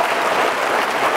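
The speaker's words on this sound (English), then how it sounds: "give yourselves a round of applause, though." Workshop audience in a goal-setting session breaking into a round of applause, a thick, close burst of many hands clapping continuously with no pause.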